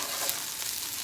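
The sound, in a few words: stirring garlic, ginger and shrimp in a pan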